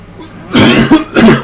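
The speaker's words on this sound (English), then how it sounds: "this cough is terrible" Two harsh, loud coughs close to the mic, one after another, with a brief pause between them.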